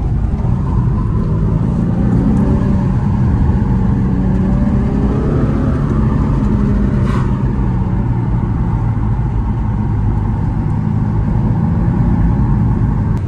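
A Nissan 350Z accelerates in third gear with a low, steady engine drone and road rumble that builds slowly and evenly from inside the car, with no speech over it.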